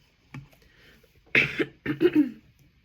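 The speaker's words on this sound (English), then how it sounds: "Do you ever get a cold and then you have like a little bit of a lingering cough" A few short, harsh coughs close up, a soft one first, then a louder burst and a pair of throaty coughs.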